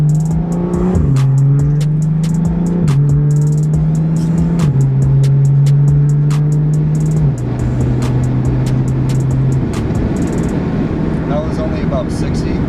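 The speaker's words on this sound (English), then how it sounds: "there's the sound if you want to know what it sounds like interior wise with the windows down" BMW F30 335i with a straight-pipe exhaust and no catalytic converter, heard from inside with the windows down as it accelerates through the gears, a loud raspy drone climbing and dropping at each shift with occasional crackles.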